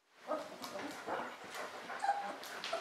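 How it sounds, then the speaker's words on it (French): Three-week-old puppies at a dog breeding kennel whimper and yip in soft, high, overlapping little cries, close by and fairly quiet, continuing steadily. "les chiots se sont réveillés"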